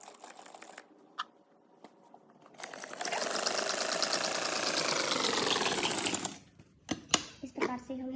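Sewing machine stitching pleats on frock fabric, a steady rapid whirring run of several seconds after a few quiet clicks, then stopping with handling knocks, close by.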